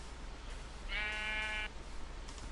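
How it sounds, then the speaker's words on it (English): A single Minecraft sheep bleats once, a clear, wavering baa lasting just under a second, moderately close over quiet background hum, no talking. "let's go see if we can find a sheep"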